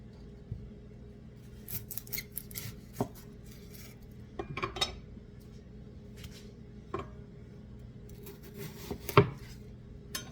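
Knife chopping red onion on a board for chicken salad, a scatter of irregular crisp cuts and taps spaced across the clip with a steady low background hum, no talking.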